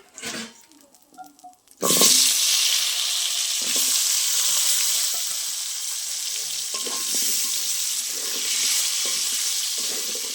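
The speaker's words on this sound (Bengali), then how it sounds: "একই তেলের মধ্যে আলুটা ভেজে নেব।" Potatoes drop into hot oil already used for pointed gourd, setting off a sudden loud burst of sizzling that then holds as a dense, steady hiss with faint crackles, after a brief quieter moment of small clatters.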